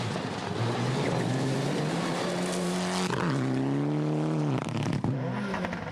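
Mitsubishi Evo 10 rally car driving at the Rally Whangarei round of the 2016 NZRC, its engine loud and close, revving hard with rising and falling gear changes, plus a sharp crackle near the end.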